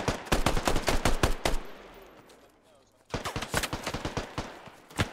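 Rapid bursts of automatic gunfire from a Squad military shooter game rattle loudly, pause into a quieter stretch, then resume in dense volleys, with faint voice chatter underneath.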